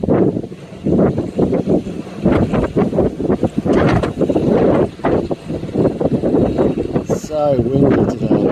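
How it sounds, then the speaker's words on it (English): Strong wind in 70 mph gusts buffeting a shed, heard as loud rumbling blasts under someone talking throughout. "So windy today."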